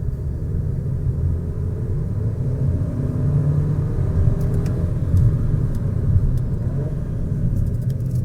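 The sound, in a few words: 2023 Audi A3 Sedan 2.0 TFSI driving quietly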